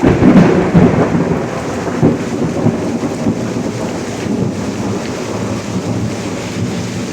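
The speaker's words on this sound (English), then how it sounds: "I keep having to deal with lightning nearly hitting the house" Rain pours steadily through a severe thunderstorm in Pittsburg, Kansas, with thunder rumbling low and loud at the start and fading to a continuous roll.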